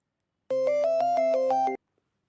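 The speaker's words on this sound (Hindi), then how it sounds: "फोन आ रहा है" A short electronic phone ringtone sounds once, a bright stepping melody of tones lasting about a second, then silence.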